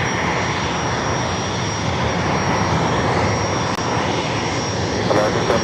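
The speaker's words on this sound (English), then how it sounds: "Airbus A350 coming up from Tokyo Haneda up next." Airbus A350 jet engines at LAX, a steady broadband roar of the aircraft sustained throughout, fairly loud and close.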